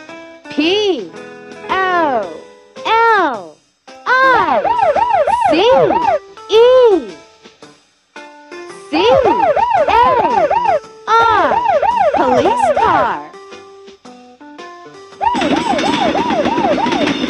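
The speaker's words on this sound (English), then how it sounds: "Police car." Several emergency vehicle sirens, including a police car, wail in short, loud, separate bursts with looping rising and falling tones, each clip clear and close, set among spoken vehicle names.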